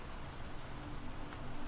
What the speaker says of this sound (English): You notice the drops racing each other down the glass, merging, separating,